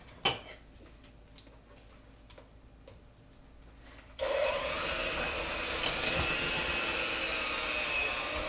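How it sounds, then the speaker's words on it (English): Electric hand mixer whipping heavy cream and butter in a kitchen, starting abruptly after a few quiet seconds of faint ticking and then running as a steady, loud whirring hum to the end. "You wanna grab the mixer and start?"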